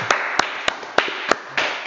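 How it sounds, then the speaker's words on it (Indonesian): Sparse, scattered handclaps from a small audience at an Indonesian talk session, about half a dozen sharp claps spread unevenly over two seconds against a steady background hiss, with no voices. "tepuk tangan."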